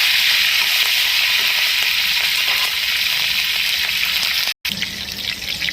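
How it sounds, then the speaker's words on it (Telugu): Green chillies and curry leaves fry in hot oil with mustard seeds and cumin, a steady, loud, dense sizzle that holds without pause except for one sudden drop-out near the end. "పచ్చిమిర్చి కరివేపాకు కూడా వేసుకొని ఫ్రై చేస్తాం"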